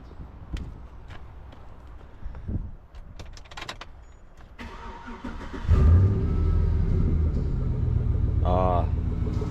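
Chevrolet LS V8 engine starting up and settling into a loud, steady idle after a coil pack swap, with a sharp rise in low rumble partway through and a brief squeal near the end.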